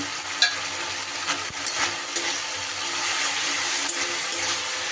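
Ground turmeric, Kashmiri chilli, coriander and cumin frying in a pan for katla fish dum, a steady sizzle with scraping stirs and a few sharp clinks, close and alone.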